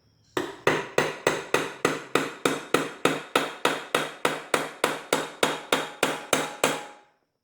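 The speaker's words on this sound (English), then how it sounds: "I may tap this crank a little bit to see if that'll help me put the nut on it so it doesn't hurt it." A hammer taps on a Honda Grom motorcycle crankshaft during engine case splitting, about twenty evenly spaced sharp metallic blows in a steady rhythm, close and clear with no talk.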